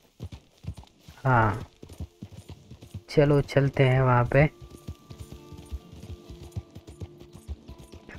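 Horse hooves clip-clop in a steady, quick rhythm while riding in the video game Red Dead Redemption 2, continuing throughout as someone talks loudly over them.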